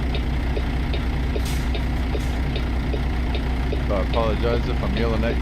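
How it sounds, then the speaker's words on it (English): Loud, steady idling of a cabover truck engine, a constant low rumble filling the whole stretch while someone talks over it. "the engine is so loud I can barely hear myself talk"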